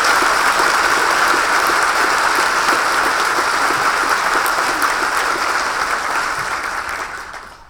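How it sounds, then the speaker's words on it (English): Sustained crowd applause at a Columbia diversity celebration honoring Dr. Martin Luther King, clapping for committee members; steady and loud, then fading away in the final second. "Can we give them a round of applause?"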